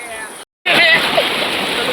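Flood water surges and splashes through a village in Vaghnagar near Mahuva, a broad rushing wash that cuts out briefly and then returns steady and close.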